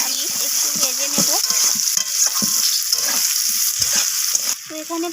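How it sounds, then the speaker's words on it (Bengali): Sliced onions and potatoes fry in hot oil in a pan, a steady loud sizzle with stirring scrapes throughout, a voice speaking over the cooking. "এরপর তেলের মধ্যে আমি দিয়ে দিলাম কেটে রাখা পেঁয়াজগুলো। আর তার সাথে দিয়ে দিলাম কেটে রাখা আলুগুলো। তো আলু আর পেঁয়াজটাকে আমি একটু ভেজে নেব।"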